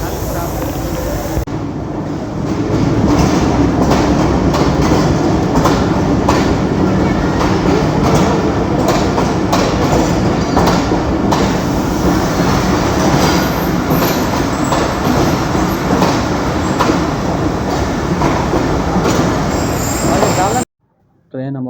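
A passenger train rolls into a station in Pakistan with a steady heavy rumble, clattering wheels and faint squeals, loud and close for most of its length before cutting off abruptly near the end.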